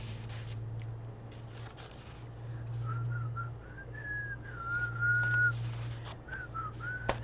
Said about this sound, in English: Sorry, I'm whistling.